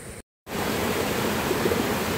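A river rushes below Batu Jomba, its steady broadband wash filling the air after a brief moment of silence at the start, continuous and fairly close with no voices.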